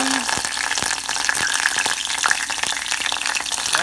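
Chilies, curry leaves and garlic fry loudly in hot oil for a mango Mangalore pickle, a dense continuous crackling sizzle with stirring knocks through it.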